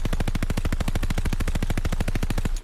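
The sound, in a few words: DP-27 light machine gun firing in video game Call of Duty: Vanguard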